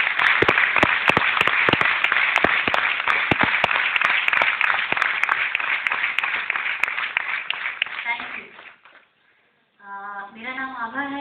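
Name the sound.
audience applause welcoming a speaker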